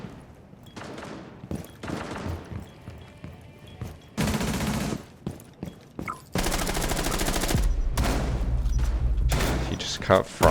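Shotgun blasts and bursts of gunfire in Rainbow Six Siege, a tactical shooter, loud and close, coming in sharp clusters with a long sustained barrage in the second half.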